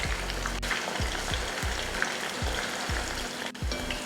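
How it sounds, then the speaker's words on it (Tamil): Chicken pieces deep-frying in oil for Vandavasi-style chicken fry, a steady close sizzle and crackle with soft periodic low thumps throughout, no voices. "இதே போல் மீதி இருக்கிற சிக்கனையும் பொரிச்சு எடுத்துடலாம்."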